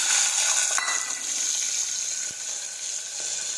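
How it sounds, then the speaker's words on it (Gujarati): Mustard seeds, cumin, asafoetida and pigeon peas hit hot oil, giving a loud, continuous bright sizzle and crackle that stays steady throughout with a few small pops, and no voices. "રાઈ અને જીરું નાખીશું. હિંગ નાખીશું. તુવેર નાખીશું."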